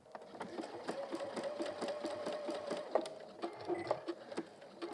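A sewing machine runs a rapid, even zigzag stitch on a hemisphere pin cushion, its needle tapping in a quick, steady rhythm, close and fairly quiet.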